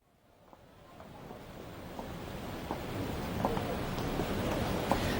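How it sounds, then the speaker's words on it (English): Water roars steadily after heavy rain in a staged radio-drama scene, a broadband wash of rushing torrent swelling gradually louder over several seconds, with faint intermittent clicks and knocks scattered through the continuous noise. "have you seen the river? What a torrent after all our recent rain."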